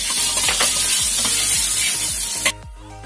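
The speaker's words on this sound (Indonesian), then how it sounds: "Setelah panas, masukkan bawang putihnya." Garlic frying in hot oil for a stir-fried jicama and dried shrimp dish, a loud, dense steady sizzle that cuts off abruptly near the end, leaving a low rhythmic hum, with no speech.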